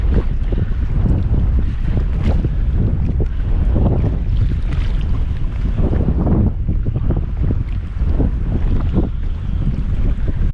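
Strong wind at sea buffets the microphone of a kayak out in thick fog, a loud continuous roar with water sloshing and lapping underneath, steady throughout with no voices.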